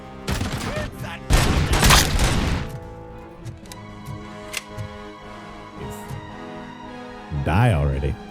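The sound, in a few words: Gatling gun firing in video game Robocop Rogue City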